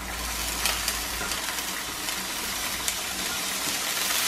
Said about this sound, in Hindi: ऐड करूंगी मैं मेरा प्याज, हल्का सा प्याज 2 से 3 मिनट तक हम भूनेंगे।